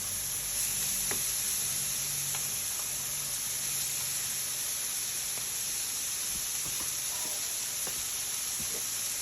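Butter sizzling in a heated pan for Italian Thanksgiving stuffing, a steady hissing crackle throughout with a few soft taps of utensils, close and even, no voices.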